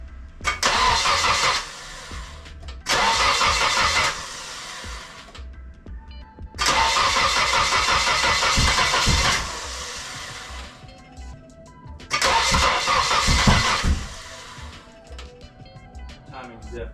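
A Nissan S13 240SX engine that has sat unused for four and a half years cranks and tries to start, with timing apparently off, in several long loud bursts of cranking and rough running separated by brief pauses, with voices in the background.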